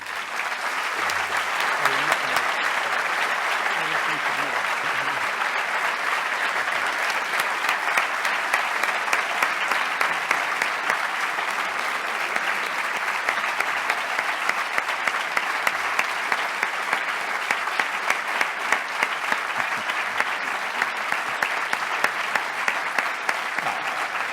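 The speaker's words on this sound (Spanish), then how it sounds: "yo les invito a que con un feroz, inadecuado incluso, aplauso, reciban ustedes al autor, don Mariano." An indoor audience gives long, sustained applause for an author at a talk, a dense, even clatter of clapping hands with no voices over it.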